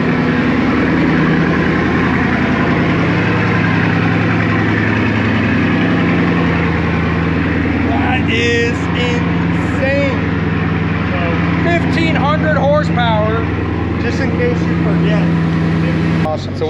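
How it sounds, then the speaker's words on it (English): A Bugatti Chiron Pur Sport idling, heard from near the exhaust at the rear: a steady low engine drone runs throughout, with people talking over it in the second half. "Do you want me to film the exhaust in the back so you can hear the sound?"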